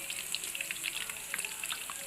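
Finger eggplant frying in a pan gives a soft, continuous sizzle with small crackles and pops, fairly quiet and close, with no speech.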